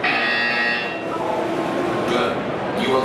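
A loud, steady electronic buzzer sounds in the game Portal 2 for about a second, then a voice talks over a low hum.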